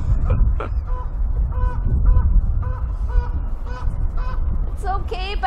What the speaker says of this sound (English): That goose did not like that fairy horn.